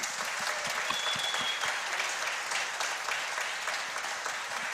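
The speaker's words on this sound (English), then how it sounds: "Give them a round of applause, please." Applause for performers at a piano recital, a dense, steady patter of many hands clapping at moderate distance with no voices over it.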